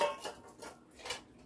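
Plates and glasses clink and clatter softly as dishes are washed, a few light knocks in quick succession, close but faint, with no talking.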